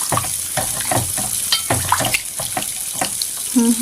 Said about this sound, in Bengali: তো এখানে একটু জল দিয়ে দেব।